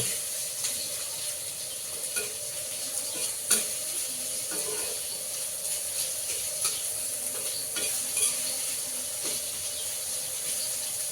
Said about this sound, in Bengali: তো আমরা এই পর্যায়ে এই পেঁয়াজ, রসুন, লবণ, মরিচ একসাথে আমরা ভালোভাবে নেড়ে নিব।